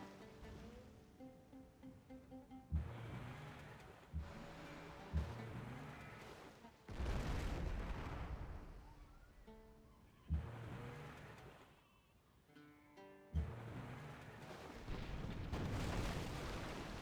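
Battleship artillery in a video game booms in repeated heavy blasts spaced a few seconds apart, each followed by a rumbling roar over a low, steady background.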